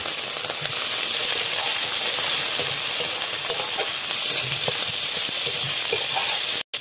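Ginger paste, garlic paste and chopped tomato frying together, a dense loud steady sizzle with soft stirring clicks underneath, running alone until an abrupt cut at the very end.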